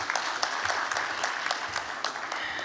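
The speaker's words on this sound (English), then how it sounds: "A round of applause for Annabelle." Applause for a keynote speaker at an NGO general assembly: a moderate crowd claps steadily, individual sharp claps standing out within the sustained patter, heard alone without talk.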